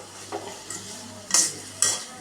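Bitter gourd fries in hot oil, a soft sizzle under a few quick stirring scrapes, with two brighter bursts of hiss as the pieces are turned.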